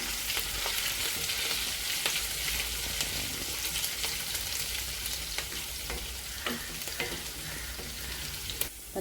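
Green chillies and finely chopped ginger frying in hot oil while making upma premix, a steady close sizzle with occasional clicks of stirring, no talk.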